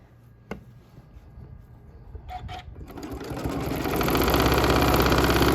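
A sewing machine free-motion quilts a T-shirt memory quilt, starting from near quiet with a brief click, then the motor whirs up and builds into a loud, steady, fast-running hum.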